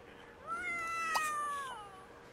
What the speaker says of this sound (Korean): 아, 고양이 짱 시끄러워.